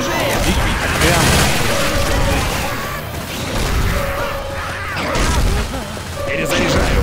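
Gunfire and crashing combat noise fill a cooperative zombie-fighting session of Left 4 Dead 2, dense and continuous rather than distinct shots, with players shouting over it.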